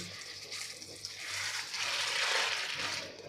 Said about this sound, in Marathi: आता ह्या मुरमुऱ्यामध्ये आपल्याला भरपूर सारं पाणी घालून घ्यायचं आहे